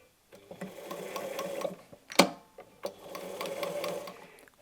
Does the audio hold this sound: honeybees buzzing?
no